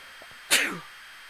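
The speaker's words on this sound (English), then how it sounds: "Oh, sorry, sneeze." One sharp, close sneeze bursts out suddenly after a faint intake of breath, then trails off quickly.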